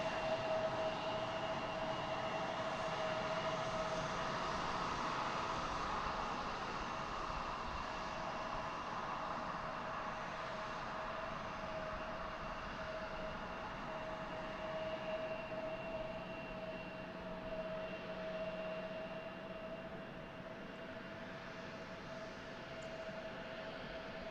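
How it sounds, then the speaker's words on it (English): United Express regional airliner taxiing to the gate at Harrisburg International Airport, a steady distant jet engine whine and low rumble holding for the whole stretch, heard alone without talk. "We'll watch United taxi to the gate."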